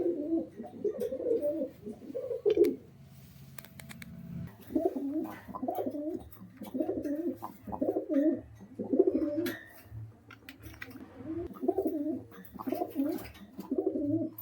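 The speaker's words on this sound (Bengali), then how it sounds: "আজকের এই ভিডিওতে এক পিস আবলুক মাদ্রাস পায়রা দেখাচ্ছি, এবং এটা একটি মাদি পায়রা।" Madras pigeons, including a female abluk Madras, coo close by in repeated rolling bursts separated by short pauses, over a faint low background hum.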